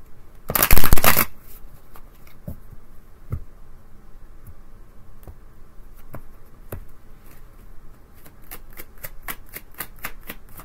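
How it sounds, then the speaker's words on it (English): A single quick riffle shuffle of tarot cards near the start, a brief loud burst, followed by soft scattered clicks and card taps in a quiet room. "One good shuffle."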